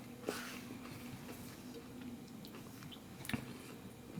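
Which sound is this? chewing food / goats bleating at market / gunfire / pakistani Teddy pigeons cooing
chewing food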